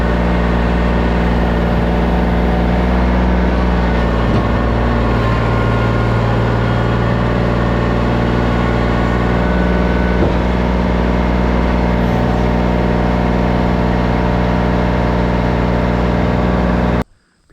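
A 2015 Kubota L2501 tractor pulling a bush hog across a New Hampshire field drones steadily and loudly close by, its engine hum constant before cutting off abruptly at the end.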